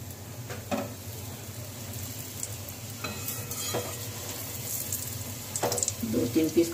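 Suji gujiya pastries frying two or three at a time in hot oil, a soft continuous sizzle with scattered pops and a ladle stirring, growing busier toward the end.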